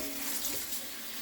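Amaranth greens rinsed outdoors under a steady stream of running water, a continuous soft hiss and splash close by with no talk.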